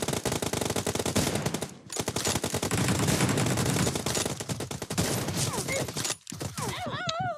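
Sustained automatic fire from an MP9 submachine gun in PUBG, long loud bursts of rapid shots filling most of the stretch, broken by two brief pauses, with other game effects toward the end.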